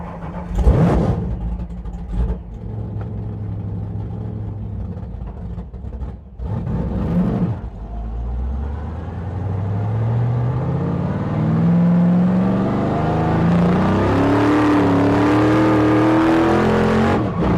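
A 1973 Plymouth Fury race car at a 24 Hours of Lemons endurance race accelerates hard, its engine climbing steadily in pitch through the gears, loud and close, with a few short bursts before a long sustained pull.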